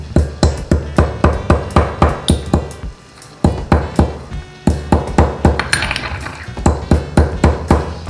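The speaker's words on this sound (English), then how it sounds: "I'll take the 2 cardamoms and put them in this mortar and pestle specifically for this Peshawari Kehwa making" Cardamom pods are pounded in a mortar and pestle for Peshawari kehwa, a fast, steady run of sharp, ringing strikes, close and loud, with a brief pause partway through.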